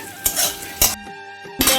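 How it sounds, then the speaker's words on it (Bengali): Ginger-garlic paste and spices frying over medium heat in a pan, with three sharp bursts of sizzling and metal scraping as a spoon stirs, and quieter gaps between them. No one speaks. "তারপর আদা রসুনের পেস্টটা দিয়ে এই মিডিয়াম আছে আমি মশলাটা ভেজে নিচ্ছি"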